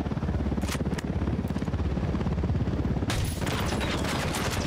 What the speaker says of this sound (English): Flintlock pistol.